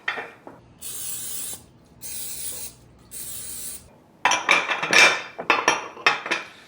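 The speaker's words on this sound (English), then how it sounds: "And then I need to lightly grease 6 ramekins." Cooking spray hisses onto six ramekins in three separate steady bursts of about a second each, close and fairly loud, followed by sharper clinks and rubbing as the dishes are set into a 9 by 13 baking dish.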